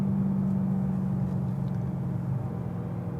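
BMW E92 M3 fitted with Öhlins Road and Track coilovers driving on the road, a steady low engine drone with road noise inside the cabin and no talk.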